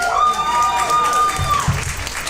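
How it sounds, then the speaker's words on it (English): A comedy club audience claps and cheers during a stand-up set, dense clapping at moderate volume with a sustained whoop rising above it and a few low voices near the end. "I don't know why we're clapping at that."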